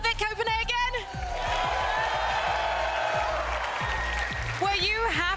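A live crowd at a Fortnite FNCS event in Copenhagen cheers and applauds in a big venue, a sustained roar of whoops and clapping, with an amplified voice talking over it at the start and end.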